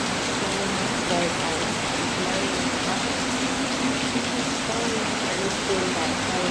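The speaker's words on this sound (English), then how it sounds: "rain has been falling like so much" Heavy rain falls steadily on a rainy day, making a dense, even hiss with no pauses that holds loud and constant the whole time.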